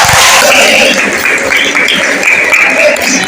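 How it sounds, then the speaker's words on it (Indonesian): A classroom of students claps together in a loud, sustained round of applause, dense and steady for a few seconds with no voices over it. "Tepuk tangan."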